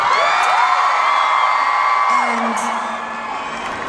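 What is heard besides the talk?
concert crowd cheering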